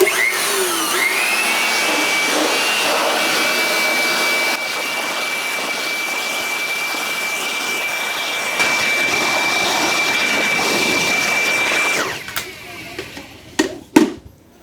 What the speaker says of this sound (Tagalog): Tapos, yun na, i-blower ko na lang yun.